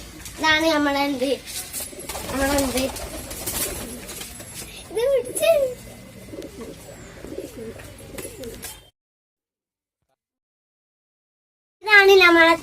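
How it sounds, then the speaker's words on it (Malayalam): Pigeons of a fancy 'duck' variety cooing at close range, soft repeated coos mixed with a person talking, then a few seconds of silence before another burst of coos. "ഇതാണ് നമ്മളെ താറാവ് പ്രാവ്."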